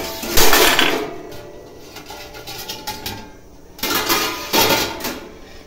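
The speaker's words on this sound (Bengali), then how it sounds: "বাসনটা একটু গুছিয়ে নিয়ে আর একটুখানি আছে।" Steel dishes and pots being gathered and stacked in a home kitchen, with bursts of clattering and clinking metal, loud and close, quieter between handlings, no talking.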